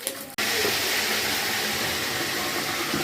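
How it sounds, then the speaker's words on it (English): Fish fries loudly in a pan after a short lead-in, a dense, close hiss and sizzle that holds steadily to the end with no voices. "Fish is frying."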